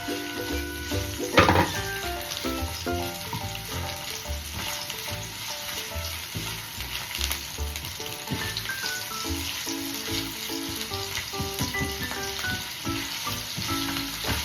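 Onion frying in a pan for vegetable hakka noodles, a steady bright sizzle throughout with a louder crackle near the start, while soft background music plays.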